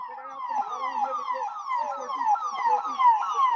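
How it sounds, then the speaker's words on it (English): Ambulance sirens wail in repeated rising-and-falling sweeps as emergency vehicles arrive at a hospital in Kashmir after the Pahalgam attack, loud and continuous with no talk. "the ambulances have started arriving"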